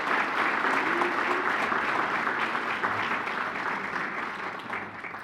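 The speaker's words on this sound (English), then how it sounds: "A round of applause for our friends that are standing" Guests at a county Hall of Fame gala give a round of applause for honorees standing, a full, steady crowd clapping that slowly tapers in loudness over several seconds without anyone speaking.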